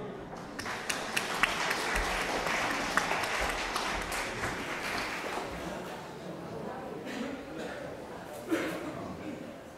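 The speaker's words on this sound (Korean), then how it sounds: "큰 박수 부탁드립니다." Wedding guests at a ceremony in Hongseong applaud before the couple's vows, a moderate, steady patter of clapping in a large hall with occasional bright taps and low voices beneath.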